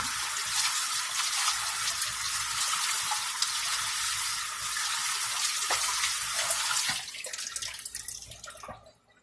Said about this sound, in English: Now, let me rinse off the pan.